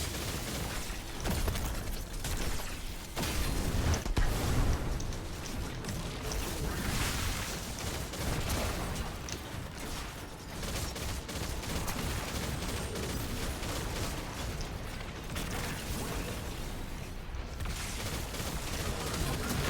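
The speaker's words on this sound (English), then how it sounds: "for flux grenades is that you're not supposed to be able to spam them like this" Flux grenades exploding over and over in the game Destiny: a dense, continuous barrage of crackling blasts and mechanical clatter, loud and unbroken for the whole stretch.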